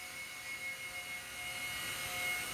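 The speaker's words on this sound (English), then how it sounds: "So then you can use this stick to yaw the helicopter." An Eachine E130 RC toy helicopter hovers nearby with a steady, high whine from its small electric motor and rotor, holding an even pitch with no talking.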